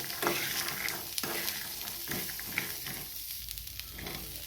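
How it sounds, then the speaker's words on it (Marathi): A spoon stirs shelled green peas into a mixture in a frying pan, steady scraping and stirring over a soft sizzle, close and moderately loud with no talking. "आता हे सोलून घेतलेले मटार घालायचे. हे छान मिक्स करून घ्या."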